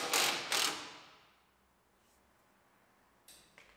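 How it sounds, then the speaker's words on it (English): A ratchet tightens bumper bracket bolts on the frame of a 2019 GMC Sierra Denali pickup, two quick, close, loud ratcheting strokes fading into quiet, then a couple of fainter clicks. "Move the bumper where you want it and tighten them down."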